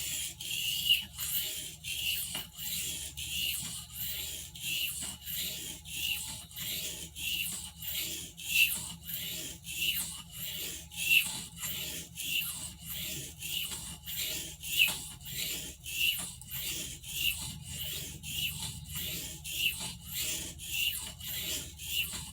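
A Barlow pocketknife blade stroked back and forth across oil stones to raise a burr, giving a steady, rhythmic series of close, dry rasping scrapes that repeat without pause and without any voices.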